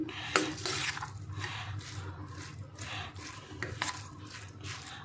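Water is poured over salted sago in a bowl to soak it, a soft, steady trickle and splash with faint drips and stirring, close and fairly quiet, with no talking.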